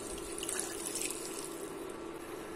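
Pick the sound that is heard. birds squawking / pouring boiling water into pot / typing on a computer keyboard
pouring boiling water into pot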